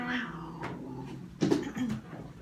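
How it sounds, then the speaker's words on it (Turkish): Harsh, wailing cat cries rise and fall over a couple of seconds, with a louder burst midway, like cats squabbling nearby. "kediler kavga etmeye başladı burada pardon."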